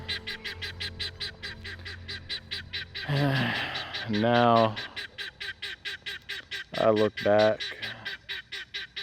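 A goose honks loudly several times, harsh nasal calls in short bursts, interrupting a person talking over a steady background hum.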